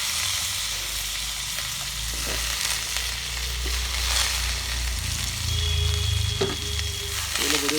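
Moringa drumstick pieces frying in hot oil, a steady loud sizzle close up with occasional stirring clinks and scrapes of the pan.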